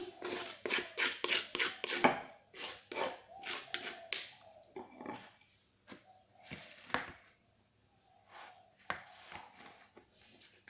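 Spices for serundeng kelapa are ground by hand in quick, rhythmic knocks and scrapes, first in a dense run, then in sparser single strikes, close and fairly quiet.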